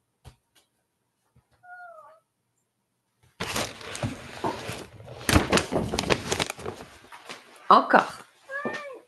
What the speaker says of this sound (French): Mon petit chat qui veut sortir.